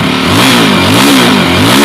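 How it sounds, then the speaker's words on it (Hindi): A Yezdi Roadster motorcycle engine revs loudly and close by, its pitch climbing and dipping over a couple of seconds of throttle blips with no talk over it. "अब यज़दी रोडस्टर की तरफ चलते हैं और इसको स्टार्ट करते हैं और इसका साउंड सुनते हैं कैसा आता है"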